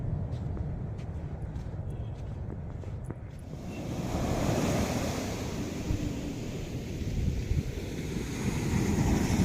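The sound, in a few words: ocean waves on a beach in Kerala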